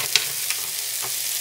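Onion sautés in a pan with a steady, close, loud sizzle and a couple of faint stirring clicks, no voices.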